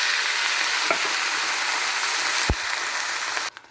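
Tomatoes tipped into a pan of browning onions give a steady loud sizzle, with a few soft clinks and a sharp thump partway through before the sound cuts off.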